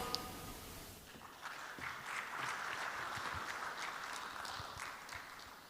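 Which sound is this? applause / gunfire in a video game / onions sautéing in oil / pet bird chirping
applause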